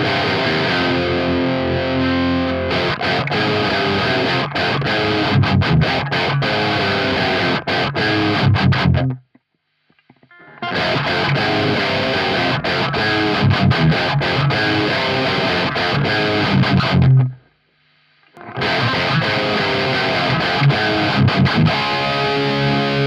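Electric guitar played through an Origin Effects Halcyon Gold overdrive pedal with the drive turned up, loud, thick and mid-heavy riffing in three bursts separated by brief silences.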